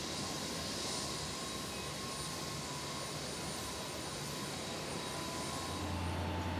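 Airliner jet engines roar steadily and loudly at close range as the plane prepares to depart, a continuous broad rumble with a faint whine and no talk.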